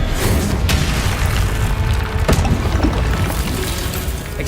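A Confringo spell explosion in Hogwarts Legacy booms loud and close, a heavy rumbling blast with a sharp burst midway and sustained low roar throughout.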